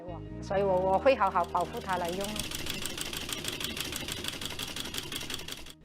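A sewing machine runs steadily with a rapid mechanical whir and clatter, after a brief stretch of someone talking at the start.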